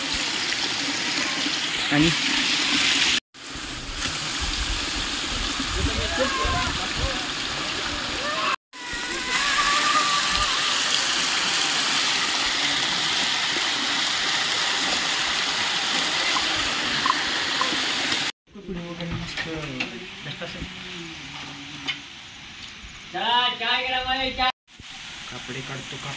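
Monsoon rain and running water pour steadily around Rajgad fort, a dense hiss that continues with brief breaks, with a voice speaking faintly under the noise.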